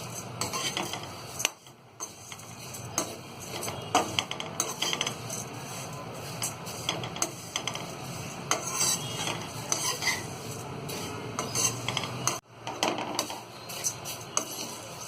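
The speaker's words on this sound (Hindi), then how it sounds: "गैस को हम थोड़ा सा तेज कर लेंगे और इसे चलाते हुए हम इसे रोस्ट कर लेंगे" A spoon scrapes and stirs poha roasting in a kadhai over a gas flame, giving a steady metallic scraping with soft sizzling underneath, close up and continuous, broken by brief pauses.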